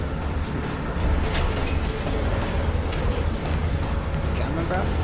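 A train rumbles steadily through a Call of Duty: Black Ops Cold War level, a low continuous rolling drone with faint rattles beneath brief game voices.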